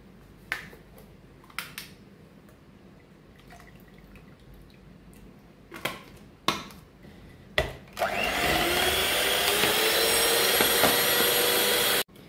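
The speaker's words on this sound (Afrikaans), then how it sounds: "En nou gaan ons 1 botteltjie room styf klits." Electric hand mixer whipping a bottle of cream stiff for a caramel eclair tart, preceded by scattered clicks and taps, then a steady loud whirring drone running to the end.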